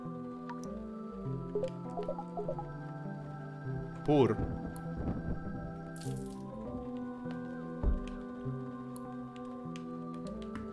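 In the horror video game House, water drips and squishes wetly after an axe strike, a few soft splashy bursts over a steady game music drone, with a person talking throughout.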